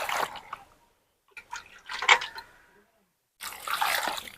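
Raw mangoes are sloshed and rinsed by hand in plain cold water after soaking in lime water, with short splashing bursts separated by quiet gaps, close and moderately loud.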